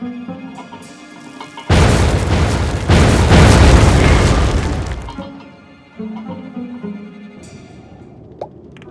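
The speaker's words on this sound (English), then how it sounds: "Throw your bomb right there." A bomb blows up against machinery in the video game Oceanhorn: a sudden loud boom with a crackling, shattering burst that swells again, rumbles for a few seconds and fades, then a small pop follows.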